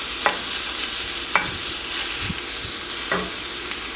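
Steak fries in a pan over turned-down heat with a steady, close hiss of sizzling. A few sharp clinks and scrapes of stirring or turning the meat break through at intervals.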